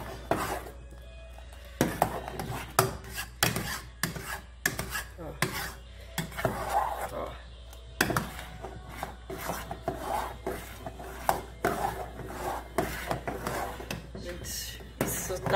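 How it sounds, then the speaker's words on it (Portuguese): Utensil scraping around the bottom and corners of a pan of caramel dessert cooking on a stove, a steady run of short rasping strokes, close and fairly quiet, with no talking. "mexendo bem pra não grudar. Ó, todos os cantinhos."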